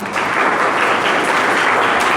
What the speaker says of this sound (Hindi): अच्छा चलो भाई, ये इनके लिए ताली, इन्होंने अपना सिलेबस देखा